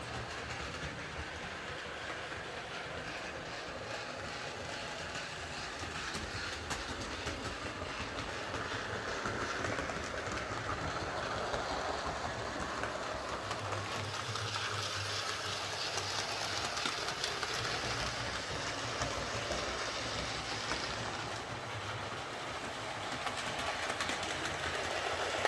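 A Hornby Duchess of Sutherland model locomotive runs smoothly along its track, giving a steady, fairly quiet rolling whir with faint rhythmic clicking that continues throughout without pause.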